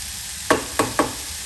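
Chopped onions sautéing in a pan over the fire, under a faint constant sizzle with three quick scraping strokes of a utensil against the pan close by.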